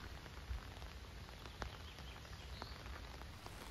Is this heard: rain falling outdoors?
yes